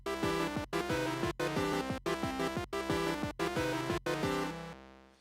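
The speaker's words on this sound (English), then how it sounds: "So the sounds you're hearing are actually from an Atari." Chiptune music generated by an Atari, with bright square-wave tones in a fast, steady rhythm of repeated phrases separated by short gaps, played loud and alone before fading at the end.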